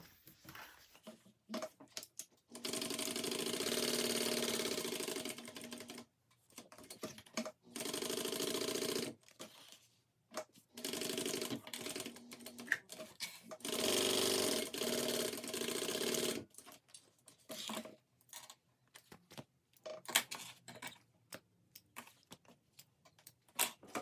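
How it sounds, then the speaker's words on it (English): A sewing machine stitches around a folded piece for a crossbody bag, running in several bursts of steady rapid whirring that last a few seconds each, separated by pauses with small clicks and handling noises, close up. "I'm going to sew around this, leave a hole in the middle here, and turn it through"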